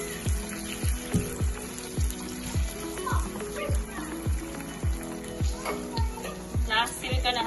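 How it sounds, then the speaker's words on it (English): Callaloo and salt fish fry in a pan with a soft continuous sizzle, while steady rhythmic stirring scrapes repeat about once per second, close and moderately quiet. "we're gonna stir that and leave that to fry for about a minute"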